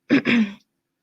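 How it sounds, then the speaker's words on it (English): A single quick two-part throat clear, close and fairly loud, followed by silence. "I know that I'm like clearing my throat a lot"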